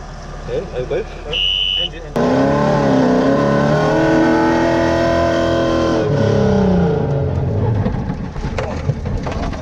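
Dakar rally race car engine revving loudly and steadily with rising and falling harmonic sweeps, preceded by brief clatter and a short tone, while people talk over it.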